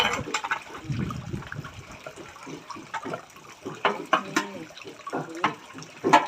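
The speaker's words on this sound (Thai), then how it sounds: "ทีนี้ไปล้างช้อนล้างเสร็จแล้วไปล้างตรงนั้นนี่จุ่มลงไป" A spoon being washed and dipped in water at a sink by kindergarten children: gentle splashing and trickling, with soft clinks and sloshes close by in a quiet room.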